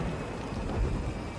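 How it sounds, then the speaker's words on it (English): Torrential rain pours steadily during a violent thunderstorm over downtown Auckland, New Zealand, a dense, loud wash of downpour with a deep low rumble of thunder underneath and no voices. "A savage thunderstorm blankets downtown with torrents of rain."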